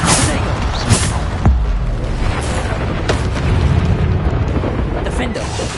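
Bombarda explosion spells and other combat magic in Hogwarts Legacy, loud booming blasts and bursts in quick succession, with a voice shouting spell names over them.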